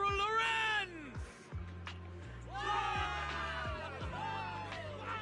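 Soldiers in Zenless Zone Zero raise a short burst of cheering and whooping, several voices rising and falling together, followed by quieter scattered shouts over a low ambient tone.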